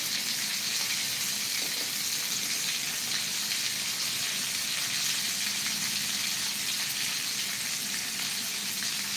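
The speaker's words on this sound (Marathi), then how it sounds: "असं आपल्याला हा बांगडा फ्राय करून घ्यायचा आहे" Bangda mackerel fish fries in a pan with a loud, continuous, even sizzle of hot oil that holds steady throughout, with no voices.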